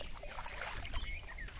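Rainwater runs through a small drain channel on a rooftop after a morning rain, a steady close trickle and gurgle that carries on without a break.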